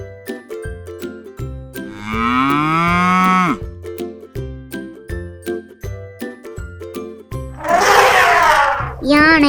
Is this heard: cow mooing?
yes